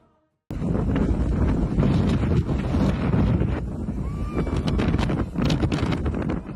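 Strong wind of a dust storm closing in on a beach roars continuously and loudly, a dense buffeting rush with gusty swells and microphone-blown rumble, starting abruptly after a brief quiet moment.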